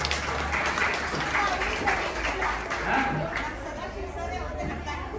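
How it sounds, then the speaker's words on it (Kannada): Audience applause at a play workshop, a steady wash of clapping mixed with crowd chatter, sustained and moderately loud for the whole stretch. "ಹಾಗಾಗಿ ಅವ್ರಿಗೆ ಮತ್ತೊಮ್ಮೆ ಚಪ್ಪಾಳೆ ಹೊಡೆದು ಅಭಿನಂದಿಸ್ತೀನಿ"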